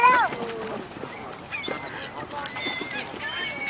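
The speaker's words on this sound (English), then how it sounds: "Here are so many geese, ducks, seagulls, and swans." Geese and ducks honk and call across a swamp lake where they swim alongside swans and gulls, with several overlapping nearby honks over a steady open-air background.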